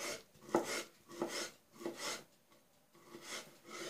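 A knife finely chops figs on a board in a quiet kitchen, making soft rasping strokes in a steady rhythm of about one or two cuts per second.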